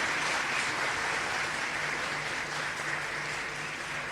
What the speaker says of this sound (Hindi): और जोरदार तालियां होनी चाहिए।